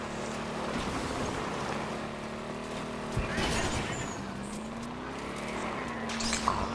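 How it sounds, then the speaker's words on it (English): Warthog vehicle driving in Halo's Warzone Turbo, a steady engine drone with a shifting tone rolling along continuously, moderately loud, with a voice talking over it. "Warthogs are fun to drive."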